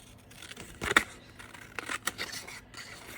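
Scissors cutting the top off a sheet of plain yellow paper, a few quiet crisp snips and scrapes close by, with a sharper cut near the start and lighter rustles after.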